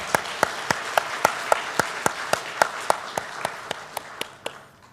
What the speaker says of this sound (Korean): 우리 큰 박수로 우리 한번 격려할까요?